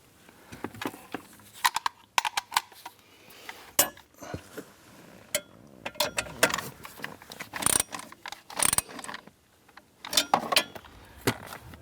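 A ratchet snugging a 10mm nut on the HVAC blower motor bracket of a 2008-2013 Nissan Rogue, with bursts of close metallic clicking and clanks in an irregular rhythm and no talking.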